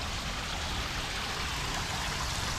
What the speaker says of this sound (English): Got that hole, so you're getting water flowing down in there, as well as off the front, so you got good noise and good looks.